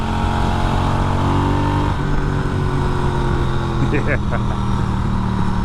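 A Norton Commando motorcycle engine runs steadily and loudly up close, its low harmonic drone shifting in pitch partway through, with a brief spoken word over it.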